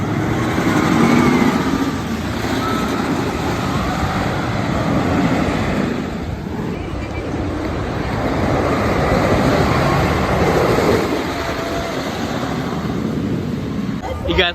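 Roller coaster rumbling along its track at Lake Compounce amusement park, a loud continuous roar with rattling wheels and wind noise, under crowd and voices.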